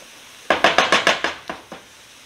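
A spoon scrapes and knocks against a pan as stuffed potato filling is mixed, about eight quick rhythmic strokes close up that fade toward the end, with no talk.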